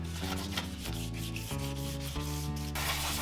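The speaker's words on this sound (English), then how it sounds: "I also use a fine sandpaper to scratch up the surface a bit" Fine sandpaper scuffing a surface to roughen it for fresh paint, close and steady back-and-forth rubbing strokes with no voices.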